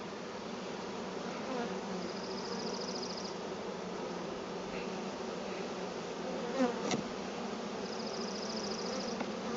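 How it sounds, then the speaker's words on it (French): Honey bees hum in the heart of an opened spring beehive, a constant, close swarm drone that grows slightly more agitated, with no voices. "Toujours travailler délicatement avec les abeilles."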